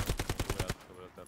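Rapid burst of about seven automatic gunshots in the World War II shooter Hell Let Loose, loud and evenly spaced, then cutting off to a quieter background hum.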